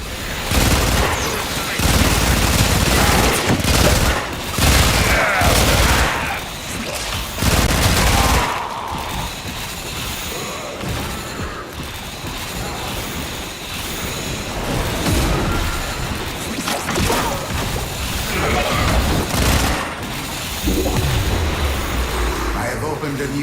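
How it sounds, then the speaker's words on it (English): Loud bursts of rapid gunfire in the video game Warframe, dense volleys broken by short gaps over a constant din of combat effects, with a voice speaking at times. "Keep wanting to shoot the Uriel's demons."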